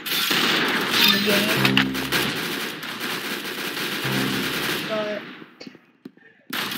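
Video game gunfire comes in rapid automatic bursts, loud and close, with shorter stretches of shooting between. A voice speaks over part of it.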